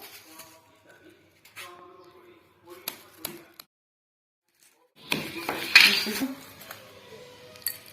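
Tamarind lozenges are crushed in a bowl. A few scattered clinks and taps come first, then a louder stretch of crunching and grinding near the end.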